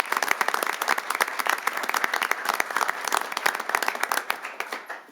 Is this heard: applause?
yes